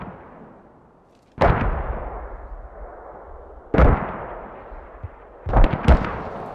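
Mortar rounds in the video game Squad, fired or landing in three separate deep booms a couple of seconds apart, each with a long rumbling decay and a double hit at the end, alone without talk.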